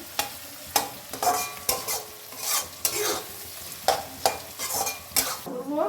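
Green peas sizzle in a pan while a utensil stirs and scrapes against the metal in repeated short strokes, close and fairly loud.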